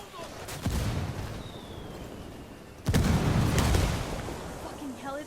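Heavy gunfire in the tactical shooter Ghost Recon Wildlands, with two loud booming bursts, one near the start and a longer one midway, each trailing into rumbling echo over a low battle background.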